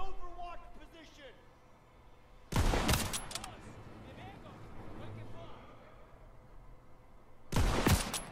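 Bursts of rapid gunfire in the Call of Duty WWII video game crack out twice, loud and sharp, between stretches of quieter battlefield ambience, with someone talking in between.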